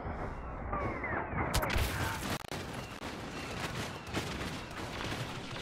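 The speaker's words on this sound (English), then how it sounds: "Who the hell is shooting me?" Rapid gunfire from the Star Wars Battlefront video game on the Jakku map, a dense continuous barrage of blaster shots and bursts with a few sharp cracks, loud and steady throughout.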